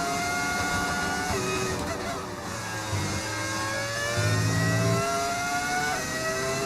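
A modded V10 engine sound in the racing game F1 25, a continuous high-pitched engine whine that rises and falls with revs as the car drives steadily, loud and close.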